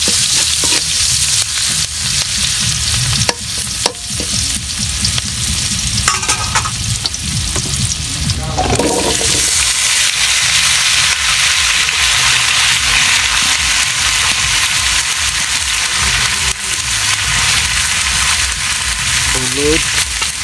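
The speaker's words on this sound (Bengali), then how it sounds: "পেঁয়াজ দিলাম" Onions frying in hot oil in a village kitchen, a loud, dense, continuous sizzle throughout, with occasional stirring scrapes and clinks.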